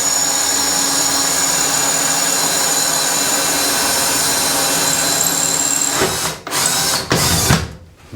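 A power drill grinds steadily and loudly into wall tile over plasterboard, a continuous high whine that stutters and cuts out in a few brief breaks near the end.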